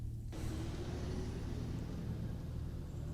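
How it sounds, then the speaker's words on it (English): A truck driving off outdoors, a low steady engine rumble that holds at a faint, distant level for a few seconds after a brief quieter start. "we recorded the truck driving off"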